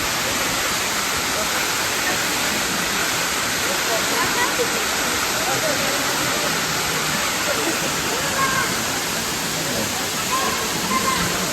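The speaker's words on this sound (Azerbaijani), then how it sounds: "Şəlaləyə demək olar çatdıq." A waterfall in Sim village, Astara, Azerbaijan, roars loud and steady close by, a thick wash of falling water that runs the whole time, while faint voices come through now and then.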